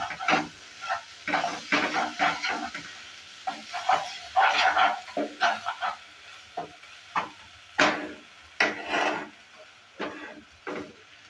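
Karela (bitter gourd) being stirred with spices, salt and garam masala in a frying pan: repeated scraping, clattering strokes of a spoon against the pan over a soft sizzle, irregular bursts close by with no talking.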